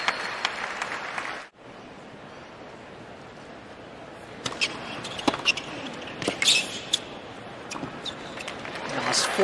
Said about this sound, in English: Warmly applauded by the American